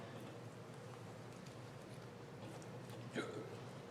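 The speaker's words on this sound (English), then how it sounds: "Bless you, or something. Hiccup." A single quiet hiccup pops out near the end of a stretch of low, muffled background noise.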